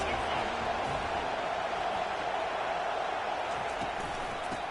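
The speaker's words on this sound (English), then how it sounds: "They challenge this crowd to bring the energy, and I'd say they're doing that." A stadium crowd at a college football game gives off a steady, dense roar of cheering that holds at an even level throughout, with a voice faintly audible over it.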